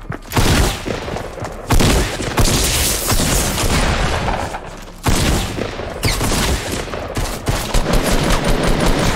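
Bursts of rapid gunfire in a Fortnite Battle Royale match, loud and close, coming in several clustered volleys with short gaps between them and no talk.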